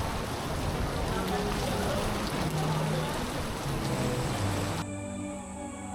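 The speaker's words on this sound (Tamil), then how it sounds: "இப்போ மழை கொஞ்சம் ஹெவியாக பெய்யுது." Heavy rain pours steadily in a cold, misty hill resort, a dense, loud wash of drops that drops suddenly quieter near the end.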